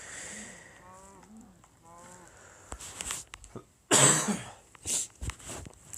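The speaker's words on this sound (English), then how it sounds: "A laugh interrupted by a cough." A laugh is broken off by a harsh cough, heard close and loud amid short bursts of breathy vocal noise. The cough is one sharp blast, followed by a few smaller throaty sounds.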